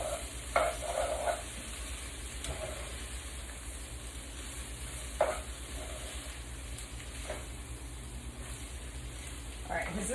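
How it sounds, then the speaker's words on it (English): Food sautés in a pan with a soft steady sizzle, broken by occasional stirring clatters, while a person talks intermittently. "has this been sauteing for 7 or 8 minutes, you think?"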